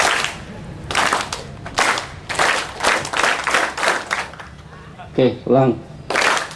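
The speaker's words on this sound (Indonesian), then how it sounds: "kalau saya begini, tolong Anda kasih tepukan. Prok, ayo tepukan." An audience at an Islamic sermon gathering claps on cue in short, sharp bursts, repeated roughly once a second. A voice speaks briefly between the bursts before the clapping resumes.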